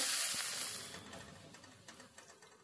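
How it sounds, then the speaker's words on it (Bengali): Onion pieces frying in oil over a medium gas flame, a soft steady sizzle that is louder at first and slowly fades, with a few faint clicks and stirs near the end. "এবার গ্যাসের ফ্লেমটা মিডিয়ামে রেখে পেঁয়াজটাকে মিনিট 2 একটু ভেজে নিতে হবে"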